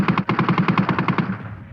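A rapid burst of machine gun fire, about a dozen evenly spaced sharp shots in under two seconds, loud and close with a ringing tail, used as a battlefield effect for the Battle of the Somme.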